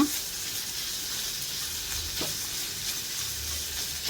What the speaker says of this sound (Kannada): ಇದನ್ನು ಒಂದು ಅರ್ಧ ನಿಮಿಷದಷ್ಟು ಕಾಲ ಫ್ರೈ ಮಾಡಬೇಕು